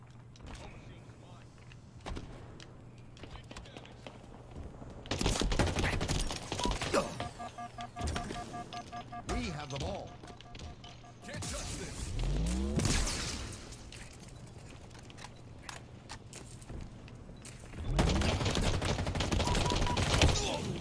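A pistol fires in a video game match in several separate bursts of rapid shots, loud and close, with quieter mechanical clicks and game sounds in the gaps between them.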